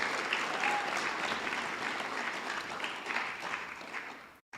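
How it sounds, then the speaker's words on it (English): Sustained applause from a graduation ceremony audience at a school district event, steady and dense throughout before cutting off abruptly near the end. "Let's give these remarkable individuals another warm round of applause"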